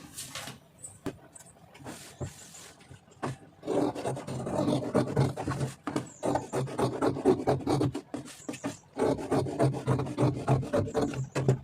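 Scissors cut through chudidar fabric on a tailoring table, making close, rhythmic crunchy snips and rasping rubs in quick runs with short pauses.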